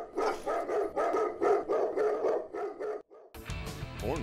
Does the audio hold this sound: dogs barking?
yes